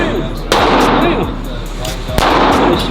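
Two sharp, loud reports from a .22 firearm at a gun range, about a second and a half apart, each with a short ringing decay over steady background noise.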